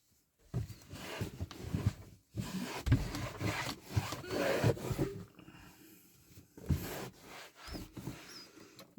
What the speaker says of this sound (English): I'll try once again applying this and then I'll wipe off with the microfiber.